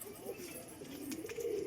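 A collected pigeon coos softly and steadily up close, a low continuous call rising slightly toward the end over faint background noise.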